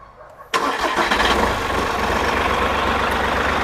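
A Kentavr 244M tractor engine starting up: a quiet lead-in, then a sudden crank and catch into a loud, steady diesel idle that holds evenly to the end, with no talk.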